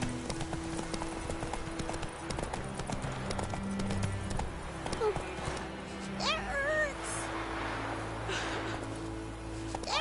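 Horse galloping in the video game The Witcher 3, a loud rhythmic clip-clop of hooves running steadily throughout, with game voices talking over it and a brief whinny.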